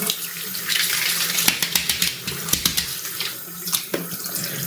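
Tap water runs steadily into a sink while a head shaver is rinsed under it, giving a close, full splashing rush with small knocks and clatters.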